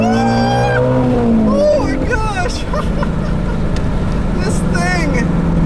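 A 2016 Shelby GT350 engine pulls hard in second gear, its loud roar rising in pitch for about two seconds before settling into a steady drone, with someone talking over it.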